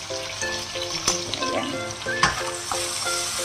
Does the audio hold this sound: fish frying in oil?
yes